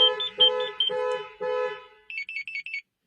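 A Kia car alarm goes off close by, sounding a series of loud tonal horn-like wails and then a quick run of higher, shorter chirps before falling silent.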